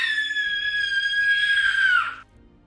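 A single long, high-pitched scream rings out loud and sustained for about two seconds, then cuts off sharply into near-silence.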